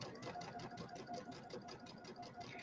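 Top stitching along a pillow edge with red thread on a sewing machine, a quiet, steady rapid needle patter heard up close and fairly faint throughout.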